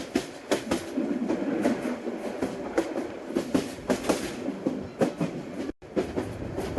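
A video-game train simulator locomotive rumbles along with a steady rhythmic clickety-clack of wheels over rail joints, continuous and fairly close, with no voices.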